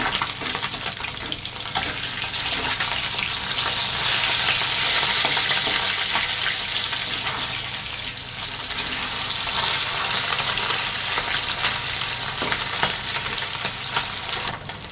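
Pashe fish frying in oil in a kadai after being turned over, a loud dense sizzle and crackle holding steady for the whole stretch, close and uninterrupted by talk.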